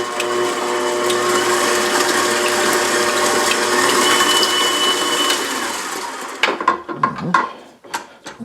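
A stand mixer's beater whirs steadily, combining instant yeast with nutmeg and cinnamon for hot cross buns. The continuous mechanical grinding then stops and gives way to a few sharp clanks and knocks.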